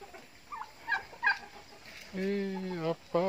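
A quail on a village chicken farm gives a couple of short, faint chirps, then a louder, drawn-out, strained call that breaks off and briefly resumes.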